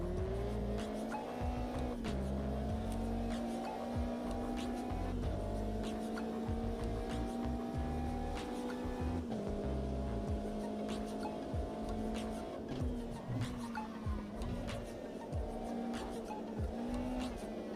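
Race cars in the Automobilista 2 sim racing game drive with a steady engine drone and shifting revs, with occasional gear changes and faint tire slip throughout, and no talk over it.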